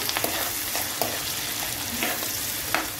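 Chopped onions frying in a pan for Telangana-style chicken fry, a continuous close hiss of oil with intermittent stirring scrapes and taps at irregular intervals.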